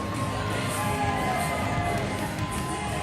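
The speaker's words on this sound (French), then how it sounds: "Et regardez l'accueil de la foule encore une fois." A wrestling crowd cheering a wrestler's entrance at an independent show, loud steady roar of cheers and whoops from many people, with scattered high shouts.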